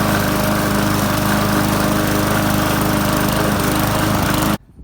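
A Bolens lawn mower's small engine runs loud and close, a dense steady drone with a rapid rhythmic pulse that cuts out abruptly near the end.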